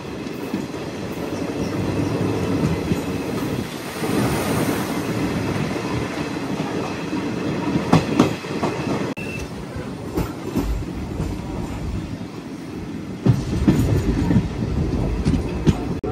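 Narasapur to Nagarsol Super Fast Express rolling along near Khammam, a steady loud rumble of wheels and carriage with rhythmic clacks and occasional sharper knocks throughout, no voices.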